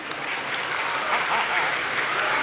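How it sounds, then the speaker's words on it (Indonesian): Audience at a santri cultural evening breaking into steady applause, a dense wash of clapping that holds at an even level for a couple of seconds, fairly close and moderately loud. "Ya, tepuk tangan."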